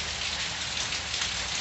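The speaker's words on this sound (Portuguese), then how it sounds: "Tá parando, a chuva tá diminuindo, mas foi uma chuva rápida." Rain falls in the backlands of Pernambuco, Brazil, in January as a brief heavy shower begins to ease, making a steady, dense hiss of drops on surfaces that is fairly soft and unbroken, with no voices.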